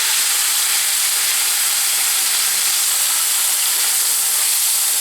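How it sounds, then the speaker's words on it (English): Big pork chops sizzling loudly in a frying pan while browning on the first side, a steady, dense hiss filling the whole stretch with no pauses and no talk. "the rule of frying, of course, is you don't turn them over until they're brown on the first side."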